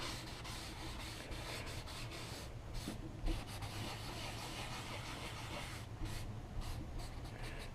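Steady dry rubbing and scratching of white charcoal being blended on toned paper, continuous and close, with a few brief louder strokes and no talking.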